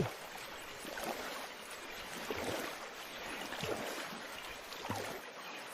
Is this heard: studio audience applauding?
no